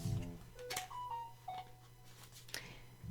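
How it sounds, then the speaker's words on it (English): A few short electronic beeps at different pitches, a small melodic notification chirp from a phone, fairly quiet over low background hum. "And let's hear my phone do its beep"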